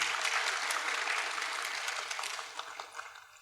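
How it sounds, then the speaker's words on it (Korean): An audience at a workplace safety talk concert claps in a steady round of applause that gradually thins and tapers off near the end. "박수 한번 주세요, 여러분."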